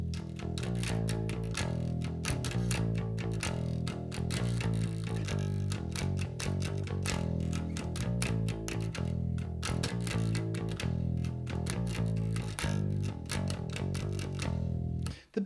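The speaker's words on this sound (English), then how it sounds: "But the bass is actually skipping that high E and staying on the low E. It sounds like this." A riff, with the bass staying on the low E, heard within a loud, dense, distorted rock band mix driving steadily for about fifteen seconds with no talking.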